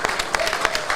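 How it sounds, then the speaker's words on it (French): An audience at the EcoTrail Paris 2022 gathering by the Eiffel Tower claps loudly for a runner after an 80 km race, a brief burst of rapid, dense applause. "Je pense qu'on peut l'applaudir quand même parce que vu la difficulté"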